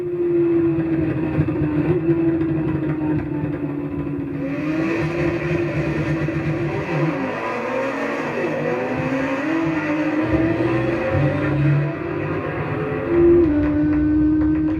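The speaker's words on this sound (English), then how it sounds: "here's what it feels like being strapped to an HP4 during a soaking wet practice run." BMW HP4 motorcycle heard onboard at high speed during a soaking wet practice run, a sustained loud engine drone with shifting pitch, a dip and rise midway, and a constant rushing wind layer.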